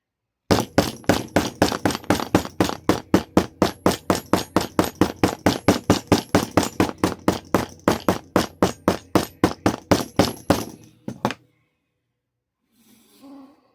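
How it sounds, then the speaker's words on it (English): A hammer taps leather to close a hand-stitching groove over the thread. About forty sharp, evenly spaced blows come in a quick steady rhythm, loud and close, then stop abruptly, leaving a faint rustle. "you take your hammer"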